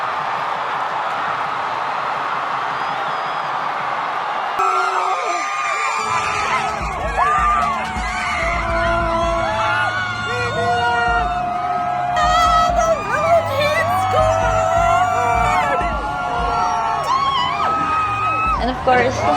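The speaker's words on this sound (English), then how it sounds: "So they scored a goal. I cut the mics just to let the crowd come in." A stadium crowd roars and whoops in celebration after a goal at the FIFA Women's World Cup, a sustained loud cheer rising after a brief lull, with yells and bangs throughout.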